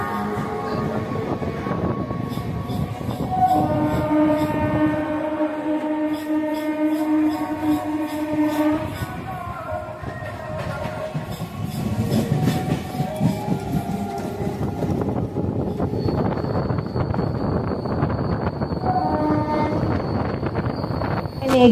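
A local train rolls out toward Bandel, a rumbling clatter of wheels over rails with squealing metallic tones and a sustained whine, close and loud, with a voice briefly talking over it.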